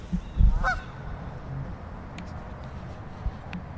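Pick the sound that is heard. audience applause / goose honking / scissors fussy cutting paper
goose honking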